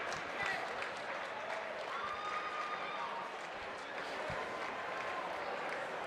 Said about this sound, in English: A round of applause for these warriors.